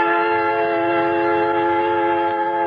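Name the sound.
creaking train pulling out through the yards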